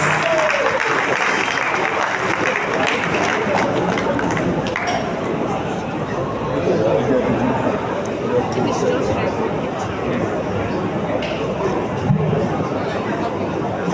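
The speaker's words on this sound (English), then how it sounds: "O.R. Ashafa, can we applaud him, please?" An audience at an anniversary celebration claps for an honoree, sustained broad applause lasting the whole stretch, with crowd chatter and clinking mixed in underneath.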